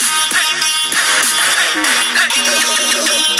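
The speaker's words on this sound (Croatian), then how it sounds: "A sada ću pustiti istu ovu pesmu na bežičnom zvučniku." A song plays through a Zeepin X3 Bluetooth wireless speaker, a loud continuous mix of tonal melody and steady rhythm filling the whole stretch without pause.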